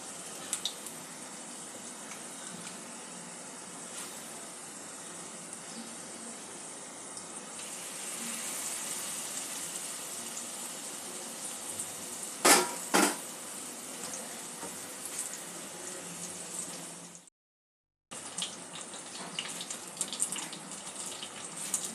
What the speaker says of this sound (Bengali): এইভাবে অল্প অল্প করে কিছুটা কিছুটা করে বেগুন নিয়ে তেলে ভেজে নেব